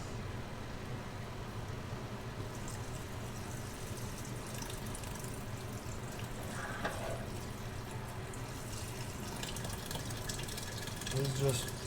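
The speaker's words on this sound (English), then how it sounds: "So we're going to add our liquids in." Chicken broth pours steadily into a pot of cooked-down broccoli in a home kitchen, a continuous low liquid rush lasting several seconds, close by, with faint kitchen clatter near the end.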